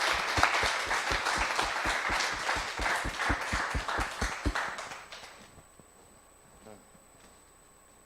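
Audience applause for a panel at a City Club of Eugene forum, a dense burst of clapping that holds for about five seconds, then fades to near silence with a faint tone lingering.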